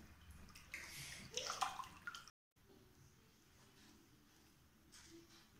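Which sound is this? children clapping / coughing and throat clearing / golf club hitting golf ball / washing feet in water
washing feet in water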